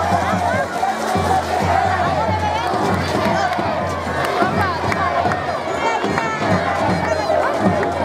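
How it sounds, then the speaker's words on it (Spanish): A crowd in the stands at a scout song festival applauds loudly, with dense clapping mixed with cheers and shouting voices that continue the whole time. "¡Fuertes aplausos!"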